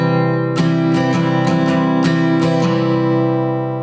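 An acoustic guitar is strummed in a steady down-down-down-up-up pattern. Several chord strokes sound close and loud over about four seconds, and no one speaks.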